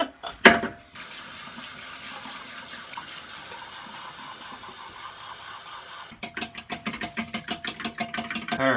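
Tap water runs steadily into a container for mixing seasoning into juice in a kitchen, preceded by a few clanks, then splashy pulsing pours near the end.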